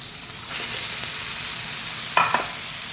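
Shrimp frying in oil for pinakbet, a steady bright sizzle throughout with a few sharper crackles and spatters near the end.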